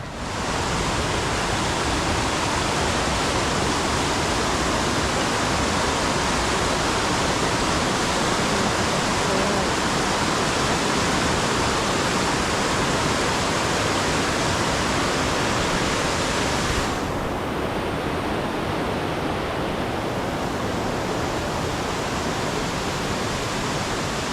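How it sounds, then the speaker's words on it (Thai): Doi Thu Le waterfall in the rainy season roars as a dense, continuous wash of falling water, loud and close, with no break across the whole stretch. "พาไปเที่ยวน้ำตกอีกที่หนึ่งนะคะ"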